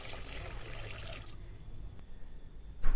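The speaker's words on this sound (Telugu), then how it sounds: "దీన్ని బౌల్లో వేసి నీళ్ళు పోసి శుభ్రంగా కడగండి." Sago pearls being washed with water in a bowl, a soft splashing and sloshing at first that settles into quieter trickling and dripping, heard alone without talk.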